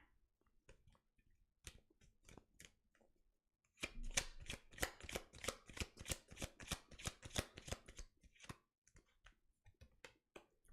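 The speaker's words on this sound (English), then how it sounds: "when I picked up the deck and I started to shuffle" A few scattered tarot card taps give way to a quick riffle shuffle, a rapid run of crisp flutters over several seconds, then some soft handling clicks.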